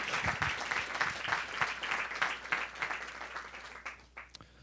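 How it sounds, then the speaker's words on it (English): Audience applause in a hall at a New York Film Festival talk, steady clapping at a moderate distance that fades out over the last second. "Give him a big round of applause."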